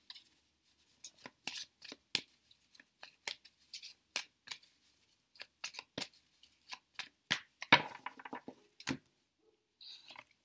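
A tarot card is drawn from the deck and laid down, giving a run of short, crisp papery snaps and slides in an uneven rhythm, close and fairly loud with no talking.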